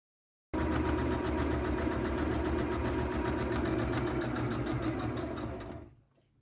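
A sewing machine stitches the liner of a tote bag, starting suddenly with a fast, even mechanical chatter up close, running steadily, then slowing and fading to a stop at the end.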